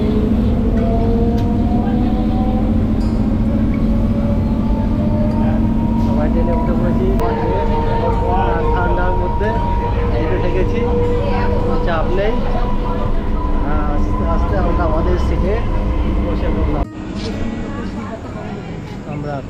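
A loud, steady rumble of a moving passenger train in West Bengal, India, with tonal whine and rattling, voices talking over it, the noise dropping suddenly near the end.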